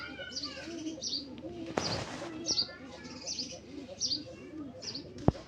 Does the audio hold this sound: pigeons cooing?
yes